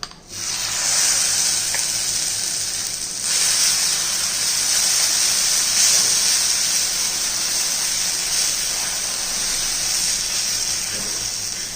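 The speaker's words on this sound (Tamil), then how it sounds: "இப்போ உங்களுக்கு நான் தோசை ஊற்றி காமிக்கிறேன்." Dosa batter hits a hot, oil-wiped griddle, setting off a loud, steady close hiss of sizzling that runs without a break.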